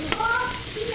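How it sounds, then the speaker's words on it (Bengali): Chopped onions hit hot oil in a pan and sizzle steadily and loudly, a close, continuous frying hiss for the whole moment with a brief sharp crackle near the start. "পেঁয়াজগুলো ভেজে নিব।"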